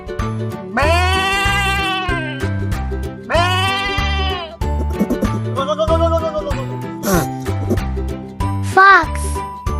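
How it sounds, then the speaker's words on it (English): Sheep bleating loudly and close in several long wavering cries, mixed with music and other animal calls. "Sheep."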